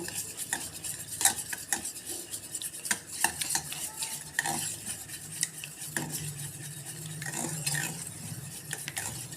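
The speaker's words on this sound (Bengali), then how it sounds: "এই যে আমি অল্প পরিমাণ চিনি দিচ্ছি ডিমের মধ্যে। এইটাকে আমি ভালো করে গুলে নেব।" Eggs and sugar whisked briskly in a bowl for a pudding, a steady run of close scraping and clinking strokes against the bowl that continues throughout with no voices.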